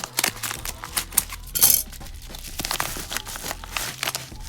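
Stiff, high-quality bubble wrap packing from a sports card mail delivery crinkles and crackles in dense bursts, loud and close, with sharp snaps scattered throughout.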